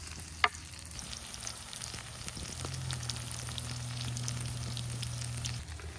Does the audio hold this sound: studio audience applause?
no